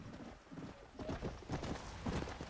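Horse hooves clip-clopping at a brisk trot in Red Dead Redemption: Undead Nightmare, a fast regular rhythm of close, moderately loud strikes.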